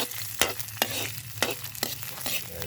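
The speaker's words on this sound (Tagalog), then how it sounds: "Magigisa lang tayo ng talbos ng kamote mga badi. Ito lang natin sibuyas bawang" Sweet potato leaves sautéing with onion and garlic in a hot pan: a steady sizzle broken by sharp, evenly spaced scrapes and knocks of a spatula, close and fairly loud, with no voices.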